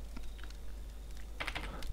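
Computer keyboard typing a console command in the game Rust, faint scattered key taps followed by a quick cluster of louder clicks near the end over a low steady hum.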